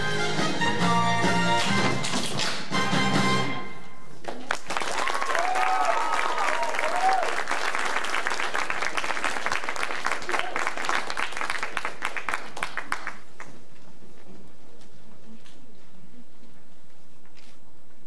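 A concert audience at a spring vocal music concert bursts into applause after music ends. The dense clapping swells, holds for several seconds, then stops abruptly into near silence.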